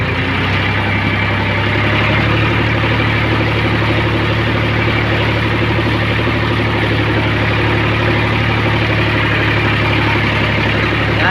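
A heavy tractor engine rumbles steadily at idle in a farm field, loud and close, with a constant low drone that never lets up.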